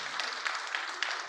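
Brief burst of audience applause at an Indigenous awareness symposium, a dense steady patter of many hands clapping in a hall for about a second, with no talk over it.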